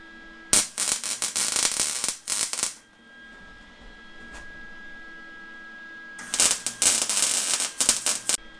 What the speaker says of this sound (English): Let me weld them ends.